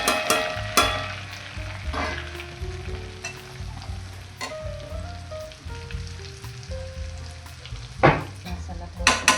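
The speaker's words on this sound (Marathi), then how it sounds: "भाजीला आता तडका देऊया।" Spices sizzle and fry steadily in oil in a kadhai, a tempering of chili powder, garam masala, fish curry masala and turmeric for prawn masala, with occasional stirring scrapes and clinks over the continuous crackle.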